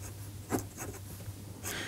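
A pencil scratches across paper as a comic artist draws, with short soft strokes and one sharper stroke, close and quiet over a low steady hum.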